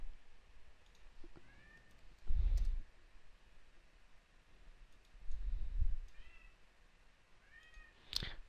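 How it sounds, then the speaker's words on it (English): A cat meows several times at a distance, short rising cries spread across a quiet room, with soft clicking and low thumps in between. "if you hear a cat crying in the background"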